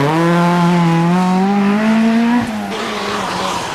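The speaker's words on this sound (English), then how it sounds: "McKinstry burning up the rubber" A 1985 rally car on a fast, open stage in Cork spins its tyres, a loud close engine howl rising in pitch with squealing rubber, then dropping sharply as it cuts off near the end.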